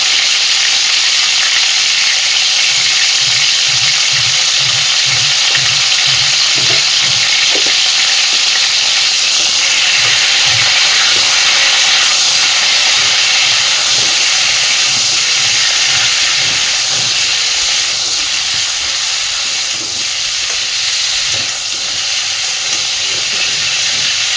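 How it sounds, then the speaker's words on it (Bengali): Cauliflower and potatoes sizzle and hiss steadily in a hot pan with salt and turmeric, with occasional soft scraping from stirring; no voices. "কপি আর আলু আমি বেশ ভালোভাবে ভেজে নিয়েছি"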